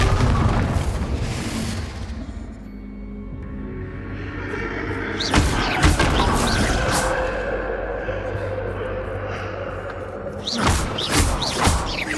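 Repeated booming blasts of the Confringo fire spell in Hogwarts Legacy, loud impacts near the start, around five to six seconds and again near the end over a dense rumbling game soundscape.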